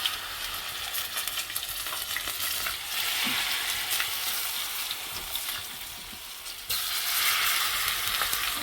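Zucchini-flower fritters bubble in hot oil with a dense, crackling sizzle that swells louder midway and again near the end, with occasional soft utensil sounds and no speech.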